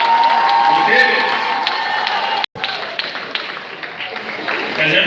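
An audience at a 2018 summer pinning ceremony claps and cheers in a dense, sustained wash of applause with voices mixed in, broken by a brief cut near the middle before the clapping resumes.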